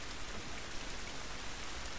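Steady, dense hiss of heavy rain pattering onto water in The Last of Us Part 3, even and unbroken throughout with no voices.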